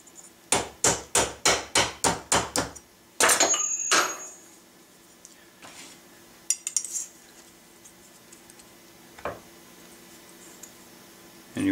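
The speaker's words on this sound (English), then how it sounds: "Put it in the vise again and just tap here and there." Hammer tapping a ramrod thimble tang held in a vise, a quick run of about eight sharp metallic taps, then a scrape and a few scattered lighter knocks, close and clear.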